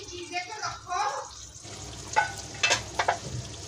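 Okra (bhindi) sabzi cooks in a pan, giving soft sizzling and stirring sounds. A few sharper clinks and scrapes come near the end, under quiet talk at the start.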